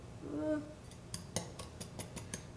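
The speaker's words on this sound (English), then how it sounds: "Mix all of the ingredients together. We want it to be all, mixed up and stirred evenly." Crumble ingredients for an apple, blackberry and walnut crumble being stirred, heard as a faint brief hum followed by a series of light clinking taps of a utensil against a bowl.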